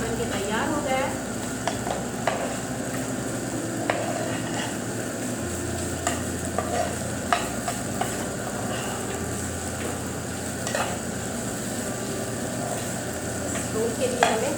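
A gas stove burns under chicken mince cooking as filling for Chinese-style egg rolls, giving a steady, even hiss with scattered clicks and scrapes of stirring throughout.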